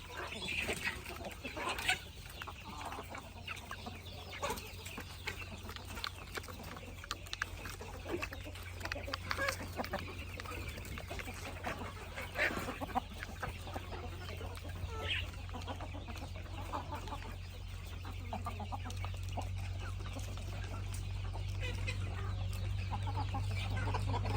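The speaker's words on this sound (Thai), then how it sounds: "ไก่คึกคัก" Backyard chickens cluck busily under teak trees on an overcast morning, with many overlapping clucks and calls near and far over a low steady hum throughout.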